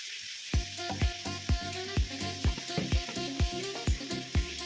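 Prawns fry in a pan for a Bengali home recipe with a loud, steady sizzle, punctuated by about nine evenly spaced spatula knocks.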